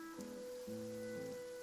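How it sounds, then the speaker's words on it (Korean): Rain falls in the video game Genshin Impact, a soft steady patter beneath sustained tonal game music. "비가 오는 것 같네."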